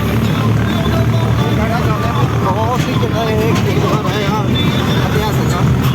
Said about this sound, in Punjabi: ਫਿਰ ਵੀ ਤੁਸੀਂ ਆਵਾਜ਼ ਤੋਂ ਅੰਦਾਜ਼ਾ ਲਾ ਸਕਦੇ ਆ ਕਿ ਟਰੈਕਟਰ ਦੀ ਕਿੰਨੀ ਜਾਨ ਲੱਗਦੀ ਹੋਈ